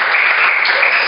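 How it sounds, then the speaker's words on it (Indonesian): Studio audience applause on an Indonesian post-debate talk show about the 2024 presidential election: a steady, dense wash of clapping, fairly loud and close, with no voices over it. "Tepuk tangan untuk kita semua."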